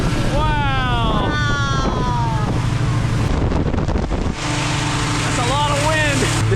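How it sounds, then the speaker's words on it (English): Strong wind buffets the microphone at a launch of hundreds of hot air balloons, a steady loud roar under excited voices talking. "That's a lot of wind."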